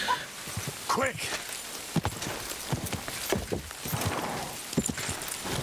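Horse hooves clip-clop in Kingdom Come Deliverance 2 as a called horse arrives, a run of soft, uneven thuds over a rain-like ambient wash, with talk running over it.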